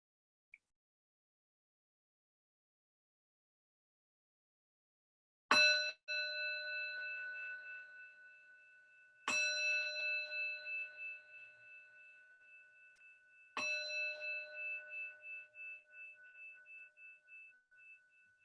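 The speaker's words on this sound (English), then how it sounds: "ending the practice when you can no longer hear the sound of the bell" Three struck strikes of a meditation bell ring out in a silent room, each clear metallic tone lingering and slowly decaying before the next, the last fading away into quiet.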